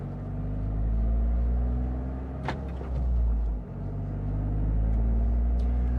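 A 2023 Toyota GR Corolla in track mode with 50-50 torque distribution drives on a track, its engine a steady loud low drone from inside the cabin, with a brief dip midway.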